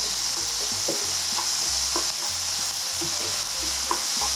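Onion and tofu seasoned with a pinch of roasted salt are stir-fried in a pan, a soft steady sizzle broken by regular scraping strokes of the spatula, close and with no talking.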